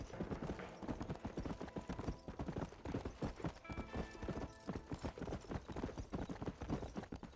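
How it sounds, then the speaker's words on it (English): Rapid, steady clip-clop of horse hooves from the video game Satisfactory, loud and rhythmic without a break, with an occasional whinny and faint speech in the background. "I will say the horse sounds are kind of obnoxious."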